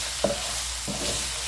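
Taco seasoning and tomato sauce are stirred into browning beef, giving two quick spoon scrapes over a soft continuous sizzle, close and moderately quiet.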